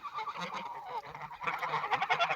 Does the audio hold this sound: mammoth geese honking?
yes